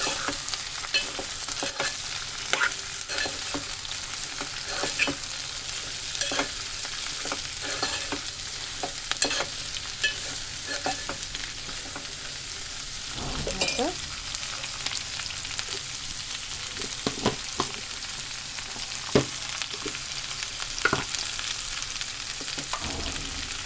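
Cabbage curry sizzles steadily in a hot pan while a spoon stirs it with frequent scrapes and light taps against the metal, close and fairly loud throughout.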